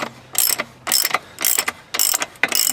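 A ratchet tool clicks while working loose the axle nut on a 2019 Yamaha MT-09 motorcycle, in five close, regular bursts of rapid mechanical clicking with short gaps, and no one speaks.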